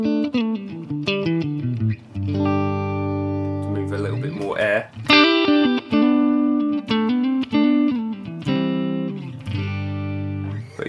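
Clean electric guitar played through the clean channel of a Mesa Boogie Mark IV amp model in a Helix, bright ringing chords and single notes in a steady, strummed rhythm, loud and close with no talking.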